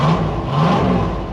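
A 1971 Ford F100 race truck with a turbocharged V8 revs briefly, a close, steady mid-pitched engine roar lasting just over a second with no talking.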